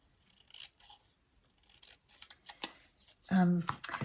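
Scissors snip through a paper label in several short, close cuts, ending in a louder, sharper burst of snipping with crisp paper rustle, made while decorating an Easter basket.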